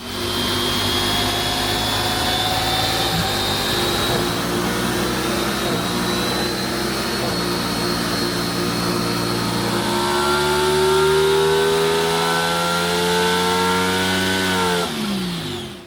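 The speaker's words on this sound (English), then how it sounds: "We just did the first of 3 dyno runs just to warm up the bike and make sure everything's looking good." A stock 660 motorcycle engine revs hard on a dyno, loud and close, climbing through several stepped gear changes in one long sustained pull before cutting off abruptly at the end.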